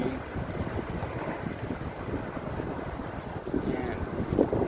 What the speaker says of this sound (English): The wind keeps pushing me,